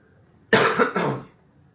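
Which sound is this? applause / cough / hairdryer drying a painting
cough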